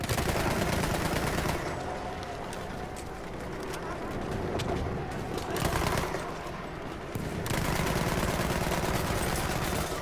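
Rapid gunfire bursts from a video game battle during a military operation, near and loud, with dense shooting that dips briefly and resumes; the player talks over it.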